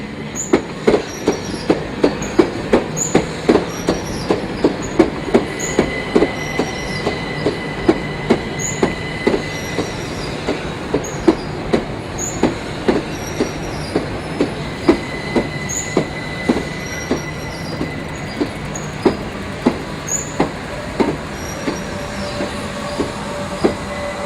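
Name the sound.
Electrostar third-rail electric multiple unit train running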